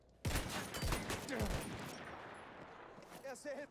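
Several sharp gunshots crack in a fast burst within a shooter video game, loud and close, then the noise trails off into quieter ambience with a voice murmuring near the end.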